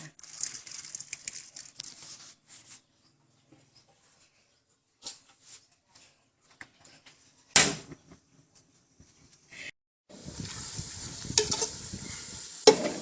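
Fresh bamboo shoots dry-roasting with salt in a pan, with intermittent stirring scrapes and brief sizzles separated by near silence, then a longer busier stretch of stirring and frying near the end.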